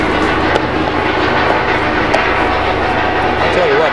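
A helicopter flies right overhead while coming in to land near an outdoor grill, and its loud continuous roar and rotor rumble dominate the whole stretch, with speech partly buried underneath.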